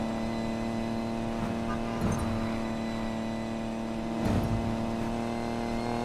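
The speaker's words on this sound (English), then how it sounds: "Engines are revving." Car engines in the racing video game Need for Speed Payback drone at a steady idle, with two brief surges of revving about two seconds apart, heard alone without talk.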